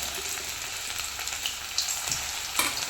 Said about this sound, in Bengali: তো এখন আমি চিকেন পকোড়াগুলো বানানোর জন্য কড়াইতে ছেড়ে দেব। এই দেখো ভাজা হচ্ছে